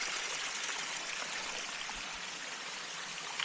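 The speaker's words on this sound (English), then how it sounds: "That is one of the coolest looking waterfalls." A waterfall in the Smoky Mountains gives off a steady, broad rush of falling water. The sound is continuous and fairly even throughout, with no voices.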